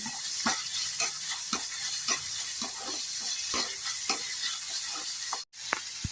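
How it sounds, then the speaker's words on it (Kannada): Chopped onion frying in oil in a pan as a dosa topping gives a constant, bright sizzle and hiss. Scraping stirs come at a regular pace, and there is one brief drop to silence near the end. "ಒಂದು ಈರುಳ್ಳಿ ಕಟ್ ಮಾಡಿ ಇಟ್ಕೊಂಡಿದ್ದೆ ಅಲ್ಲ, ಇದನ್ನು ಹಾಕ್ತಾ ಇದ್ದೇನೆ"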